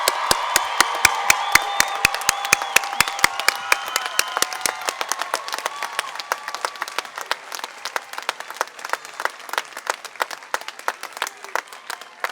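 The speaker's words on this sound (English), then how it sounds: "please join me in a big, loud round of applause for our graduating students" An audience at a spring 2018 graduation ceremony gives the graduating students a big round of applause: dense, steady clapping that is loudest at the start and slowly thins and fades over about twelve seconds.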